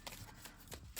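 Quiet card shuffling, a few soft riffling bursts with a brighter flutter at the end, close and faint.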